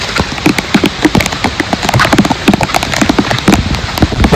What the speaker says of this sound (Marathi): या पायवाटेवर ऑलरेडी भयानक पाऊस असल्यामुळे पाण्याचे स्रोत असे पाण्याचे प्रवाह वाहत आहेत